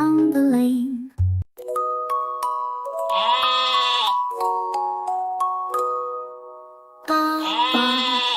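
Sheep bleating in a children's nursery rhyme song, two quavering bleats standing out among bright synthesized musical notes, clear and close.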